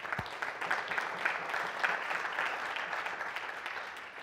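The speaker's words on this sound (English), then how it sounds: "So I'm just going to keep clapping because it's an amazing feat for the Italian community." Sustained audience applause at a conference talk on the state of Joomla, a dense steady patter of many hands clapping evenly throughout, fairly far off and with no speech over it.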